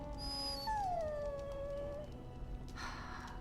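A dog in the video game Dragon Age: Origins gives a long, high, drawn-out whine that slides downward and fades, set against a steady low game ambience.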